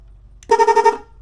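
One short, loud motorcycle horn blast with a slightly warbling, buzzy tone, sounded close up and cutting off after about half a second.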